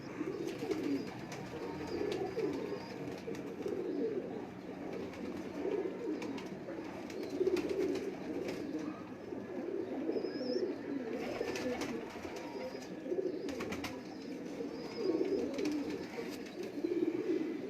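A flock of Lakha pigeons keeps up a continuous low cooing, many birds overlapping in a steady murmur, with occasional chirps and scattered clicks and flutters nearby.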